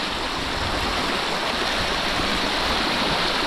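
A river runs in a steady broadband rush, its water churning loudly and evenly from start to finish with no break and no voices over it.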